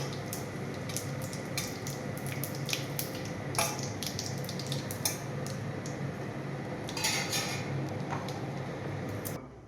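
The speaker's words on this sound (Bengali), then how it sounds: "তাই এই দিয়ে দিলাম তেজপাতা, শুকনো লঙ্কা আর জিরে। এটা একটু ভালো করে ভেজে নেব।" Bay leaves, dried chillies and cumin frying in oil in a pan for a Bengali fish curry, a low, continuous sizzle with scattered light clinks and taps of a utensil, no talking.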